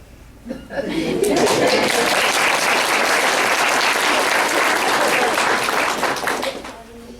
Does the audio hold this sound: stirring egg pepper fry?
no